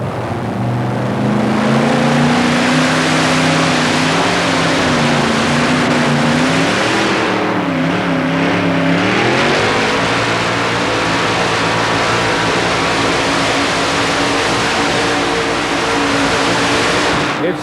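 A 4WD pulling truck called the Pumpkin roars at full power during a stadium truck pull in Tampa, a loud sustained engine drone whose pitch wavers and dips midway, then holds steady.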